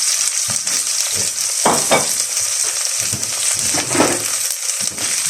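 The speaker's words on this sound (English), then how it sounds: "we're just going to cook these until we get rid of the rawness in the onions" Onions, garlic and ginger frying in a pan, a steady close sizzle with intermittent stirring scrapes and small pops, no voices.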